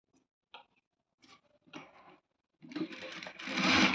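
A sewing machine stitching invisible thread piping starts with a few short, separate clicks and bursts, then runs into a steady, close whirring stitch toward the end.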